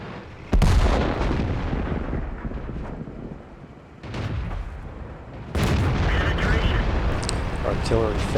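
Artillery shells boom in a World of Tanks battle on a Sand River assault map, several heavy blasts with rumbling tails, the strongest near the start and two more partway through, amid game noise.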